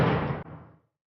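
A door closes quietly: a soft thud with a brief swish of movement before it, then a faint fading decay into silence.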